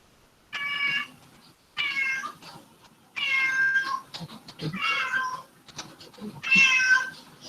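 Domestic cat meowing five times in a row, loud and close, each meow about half a second to a second long with short quiet gaps between.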